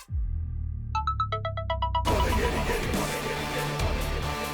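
A phone ringtone plays a repeating electronic melody of short, evenly spaced beeping tones, loud and close, then cuts into a dense burst of background music.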